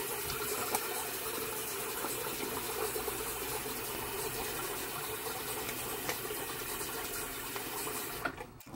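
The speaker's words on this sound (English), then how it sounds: "Then I get a quick rinse." Running water from a tap giving a quick rinse to a vintage 1946-47 Gillette Aristocrat safety razor, a steady close hiss and splash that stops abruptly near the end, with no talk.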